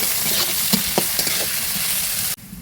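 Pointed gourd peels frying slowly on low heat in a pan, a continuous close sizzle with a few spoon stirs and clinks, ending abruptly, no talking.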